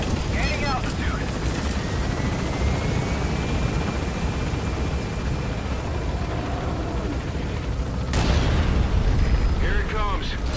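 A helicopter roars in Metal Gear Solid V, a dense, loud, continuous rotor and engine wash filling the whole stretch, with a sudden surge near the end and game voices speaking over it.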